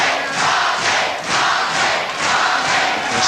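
A 1984 UK wrestling crowd roars through a championship bout between Marty Jones and Fit Finlay, a loud, continuous wash of cheering and chanting that swells in rhythmic waves.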